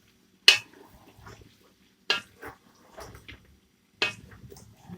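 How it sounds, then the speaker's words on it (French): Banana pieces and onions stirred in red oil in a cooking pot, giving three separate scraping clatters spaced about two seconds apart, each followed by soft wet shuffling, close and fairly quiet. "nous la tournons, nous remuons la banane dans l'huile"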